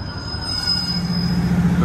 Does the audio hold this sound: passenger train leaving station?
yes